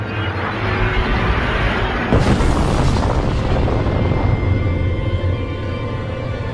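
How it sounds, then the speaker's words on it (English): A huge Big Bang explosion effect, a dense roaring rumble with a sharp burst at about two seconds that swells and then rolls on as a sustained wall of noise. "the universe and everything in it exploded into existence from a point smaller than an atom"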